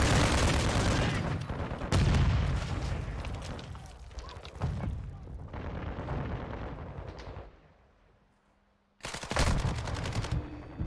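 Gunfire in a Call of Duty Modern Warfare II multiplayer match, with dense, loud bursts of automatic shots and blasts layered over one another, a brief lull, then another heavy burst.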